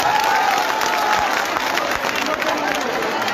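Sustained applause from a crowd at a political rally, steady and fairly loud, with voices mingling underneath.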